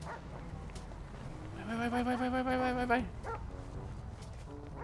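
A dog in the GTA 5 video game lets out a drawn-out, whining bark-like howl in the middle, over steady game background noise while someone talks briefly.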